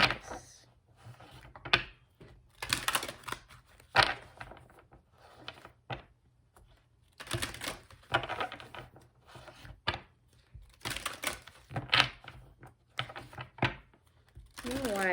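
Cards are shuffled in repeated quick riffling bursts with short pauses between, close up, while a person talks quietly in the background.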